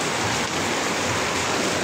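Heavy rain pours down steadily at dusk over a vegetable garden, a dense continuous wash of close, loud hiss with no pauses or voices.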